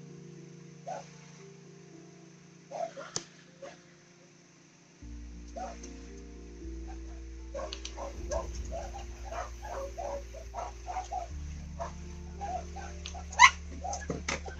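Dogs in the Gris video game bark only now and then at first, then break into a busy run of yips and barks over soft, shifting background tones.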